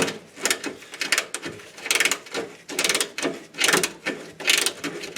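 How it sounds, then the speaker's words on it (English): Ratcheting wrench working on Ford F150 transmission cooler lines under the truck, a rapid clicking ratchet repeating in short bursts of several strokes each, close and clear with no talking. "These ratcheting wrenches."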